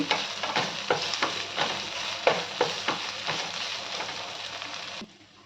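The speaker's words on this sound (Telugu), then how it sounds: "ముందుగా కట్ చేసి పెట్టుకున్న టమాటాలు కూడా వేయాలి టమాటాలు బాగా మగ్గాలి" Chopped tomatoes fry in a pan with a steady close sizzle, broken by repeated scraping stir strokes, before the sound cuts off abruptly near the end.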